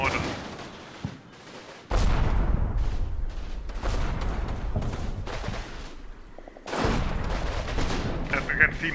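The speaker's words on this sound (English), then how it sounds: "machine guns from the hill are also shooting." Machine guns and heavy weapons fire in the World War II strategy game Combat Mission Rome to Victory, with bursts of dense rattling gunfire and booming impacts that rise, ease off and then surge again.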